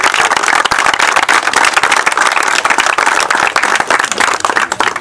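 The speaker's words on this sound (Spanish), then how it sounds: "pedirles un fuerte voto de aplauso" A crowd at a youth football tournament ceremony in Lima claps loudly and continuously, dense close applause filling the whole stretch without speech.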